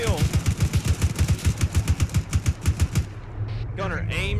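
Rapid automatic gunfire in Arma 3, a fast rhythmic burst of sharp evenly spaced shots for about three seconds, then stopping as a voice talks over the fading background.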